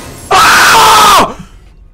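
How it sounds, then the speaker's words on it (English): A person playing the horror game Alien Isolation lets out one loud, sustained scream of about a second, which cuts off into a faint breathy trail. "that scream was pretty realistic, I guess"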